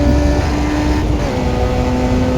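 Simulated F1 junior open-wheel race car engine in a racing video game, a steady loud drone with sustained tonal whine held throughout, no talking.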